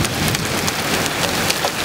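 Hail and rain falling hard during a July storm in Winnipeg, a dense continuous patter of impacts close by, with no voices.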